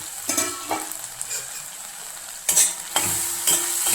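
Masala for a spring onion chutney fries in a pan with a steady close sizzle, while a spoon scrapes and stirs in short strokes. No one speaks.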